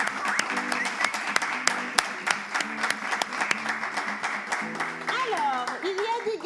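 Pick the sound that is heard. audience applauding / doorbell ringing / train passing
audience applauding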